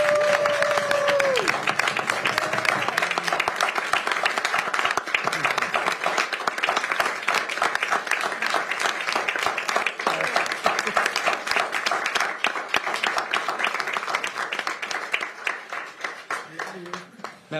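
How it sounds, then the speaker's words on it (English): Sustained round of applause in a council meeting chamber, many hands clapping steadily and densely for most of the duration, with a brief voice at the start and the clapping thinning near the end. "Let's give her a round of applause."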